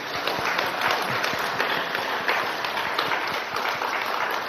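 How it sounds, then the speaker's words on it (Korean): A church congregation at a Korean Sunday afternoon service for teachers claps in a steady, dense burst of applause that fills the room evenly throughout. "한번 박수 한번 해주세요"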